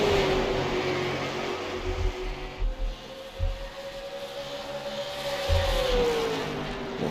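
Super late model race cars circling a track in Iowa, their engines droning from a distance. A steady tone rises and falls as the cars pass, with a low rumble and some crowd or ambient noise, and no speech.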